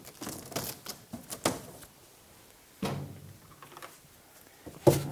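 A screwdriver is jabbed through the packing tape on a cardboard box for a Cadillac trapeze table, making several sharp, scattered tearing and popping cracks separated by quiet pauses.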